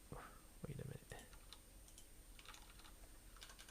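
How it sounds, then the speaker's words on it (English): A computer keyboard clicks in scattered quick taps and short bursts, close and quiet, with faint speech at the start. "my keyboard is not functioning"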